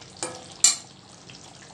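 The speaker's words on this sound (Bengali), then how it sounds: "একটু ফুটিয়ে নিচ্ছি মাংসটাকে।" Meat cooking and bubbling in a pan, with a faint sizzle and a few quick stirring scrapes close by.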